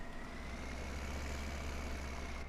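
Tractor engine idling in Farming Simulator 17, a steady low diesel rumble with a faint constant whine above it, even and unbroken throughout at moderate volume, with no voices.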